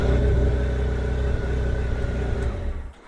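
A 2002 Honda GL1800 Goldwing motorcycle engine, in first gear, rumbles at a steady low idle close by, then dies away abruptly after about three seconds.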